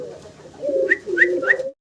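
Close, soft cooing from a pair of yellow Flasher pigeons at a pigeon seller's: low murmuring coos with three brief higher chirping notes over a quiet background, and no one speaking.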